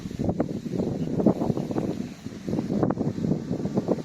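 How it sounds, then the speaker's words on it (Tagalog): Gusty monsoon wind buffets the microphone in rough, uneven blasts, loud and close, with no clear talking, while a kite flies. "Lakas ang hangin"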